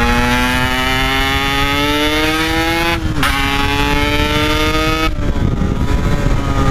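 A Yamaha RX King two-stroke motorcycle races along a busy road, its engine screaming loud and close as pitch climbs through the gears, with quick drops at each shift and no talking.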